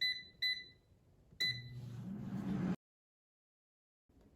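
An air fryer sounds a few short, high electronic beeps to signal the end of cooking mac and cheese bites, followed by a quieter hum that cuts off abruptly.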